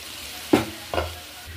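Elephant foot yam fries in a pan with salt and turmeric under a soft sizzle, and two distinct stirring scrapes sound close by about half a second apart.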